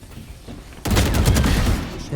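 Gunfire in the video game Valorant breaks out partway through as a dense, loud burst of rapid shots after a quieter opening.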